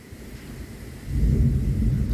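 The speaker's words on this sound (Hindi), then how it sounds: "बादल गरजने की आवाज़ आ रही है" Low, heavy thunder rumbles in, swelling louder halfway through and rolling on steadily, with a hiss of rain or wind underneath.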